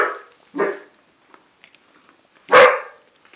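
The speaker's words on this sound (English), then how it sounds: "Dogs are howling, huh, Mama?" Dogs barking around a litter of six-week-old puppies, two short barks near the start, a quiet gap with faint small sounds, then one louder bark close by.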